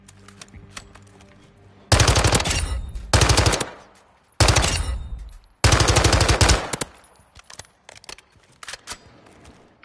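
Loud bursts of automatic gunfire from a gun in the video game Modern Warfare 2, several rapid volleys separated by short pauses, with quieter clicks and rattles between them.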